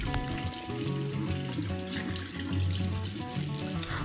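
Tap water runs steadily into a sink while a face mask is rinsed off, a continuous splashing trickle with no voices.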